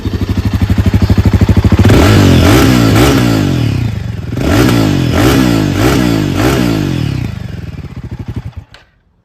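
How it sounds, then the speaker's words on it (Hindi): A Royal Enfield Himalayan 450 motorcycle engine runs close and loud, thumping at idle before several sharp revs rise and fall in quick bursts, then settling and cutting off at the end. "तो हिमालयन 450 में कुछ ऐसा साउंड आता है।"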